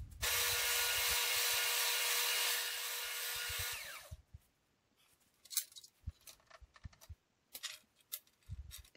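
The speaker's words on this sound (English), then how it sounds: "I think the drill bit was wobbling a bit there, so I swapped it out." A power drill whines steadily for about four seconds as it bores a hole, then stops, followed by scattered clatter and handling of tools.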